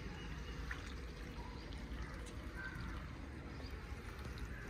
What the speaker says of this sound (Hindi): अभी इसको पानी डालना शुरू कर दिया है